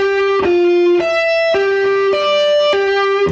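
Distorted electric guitar plays a looping arpeggiated riff, with bright sustained notes picked in a steady rhythm and shifting bass notes underneath, loud and close with no talking.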